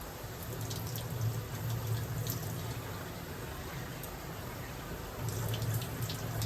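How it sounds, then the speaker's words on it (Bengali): Water poured into a pan of semolina halwa mixture, a steady soft splashing trickle that runs throughout, fairly quiet and close, with a slightly fuller gush near the end and no talking. "এবার আমি জল দিয়ে দিচ্ছি।"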